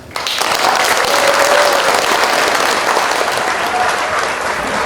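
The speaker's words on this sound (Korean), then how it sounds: "다시 한번 큰 박수 부탁드리겠습니다" Audience applause at a Korean concert and business agreement signing ceremony, loud sustained clapping from a crowd that begins abruptly and holds steady for several seconds.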